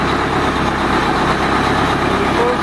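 A Detroit Diesel 8V92 two-stroke V8 diesel engine runs steadily, a loud, constant low rumble with a buzzing mechanical texture and no pauses, heard close and alone.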